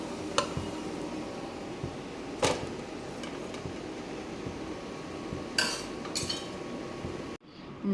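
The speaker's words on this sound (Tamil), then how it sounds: "அடையை வந்து ஒரு பிளேட்டுக்கு மாற்றிக்கிட்டேன்" Crispy adai lentil pancake being moved onto a plate, with a few sharp clinks of utensil against plate scattered over steady kitchen background noise, no talking.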